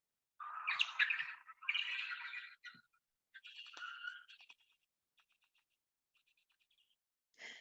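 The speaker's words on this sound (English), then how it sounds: "This is a Mexican freetail bat, and this is a large colony" Mexican free-tailed bat colony communication calls heard through a bat detector: several bursts of twittering, bird-like chirps up close, then sparse faint ticks fading out, with a brief final burst.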